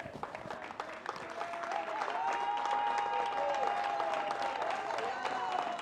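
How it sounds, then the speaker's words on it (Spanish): A church congregation claps in praise at an evangelical campaign service in Valdivia, Chile. Quick, dense clapping starts moderately and swells after the first couple of seconds into a full, sustained round, with a raised voice or singing carried over it. "Vamos a dar palmas de alabanza para el Señor."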